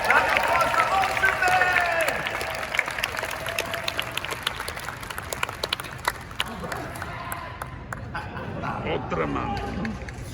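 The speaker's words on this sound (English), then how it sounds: "Everyone, a big round of applause for" Audience applause and cheering at an Ultraman main event at Anime Expo 2022, a dense sustained burst of clapping from a large crowd that gradually thins out, with crowd noise and some talk underneath.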